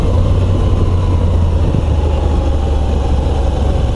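A Moto Guzzi V85 TT Travel 2022 motorcycle engine running: a steady, low, even drone that holds at a constant level throughout the clip, with no speech.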